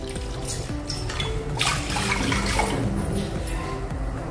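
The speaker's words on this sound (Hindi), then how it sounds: "अभी इसमें हम पानी डालेंगे।" Water is poured steadily into a wok on a gas stove in a home kitchen, a continuous close splashing and gurgling stream with no talk over it.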